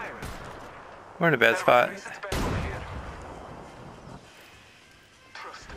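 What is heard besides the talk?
gunfire in a squad fight in the Apex Legends video game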